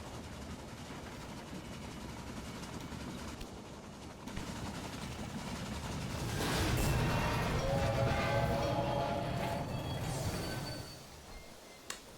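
A train in the video game Railway Empire rumbles in with rising mechanical noise and a horn-like tone, growing louder toward the middle before easing off.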